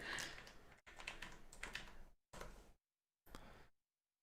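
Computer keyboard typing, two bursts of rapid close clicking followed by two short separate runs of keystrokes with silence between.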